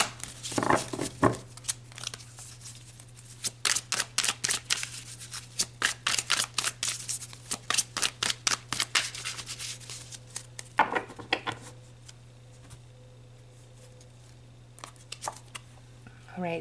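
Tarot cards are shuffled in quick rhythmic bursts of crisp riffling and snapping for several seconds, then a few more scattered shuffles, all over a steady low hum.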